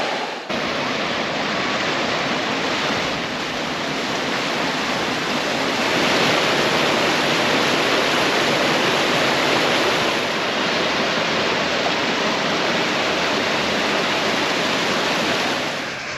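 Woolshed Falls, a waterfall in a granite setting with a swimming spot, pours with a steady broadband rush of water that stays loud and constant, with a brief swell midway and no voices.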